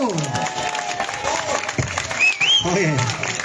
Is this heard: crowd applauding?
yes